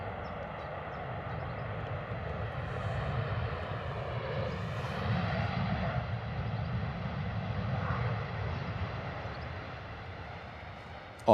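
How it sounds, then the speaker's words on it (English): A Ryanair jet arriving at London Stansted from Palma de Mallorca rolls past, a loud continuous engine roar and whine that swells in the middle and holds steady, heard close with no talk. "Lovely Ryanair arrival coming in from Palma de Mallorca."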